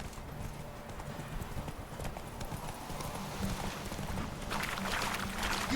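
Roach, the horse from The Witcher 3, gallops in a rapid, continuous hoofbeat rhythm that swells louder toward the end, heard over steady in-game ambience.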